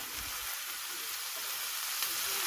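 Mince and onion frying in a lightly oiled pan, a steady broadband sizzle that stays constant and moderately loud throughout, with no talking.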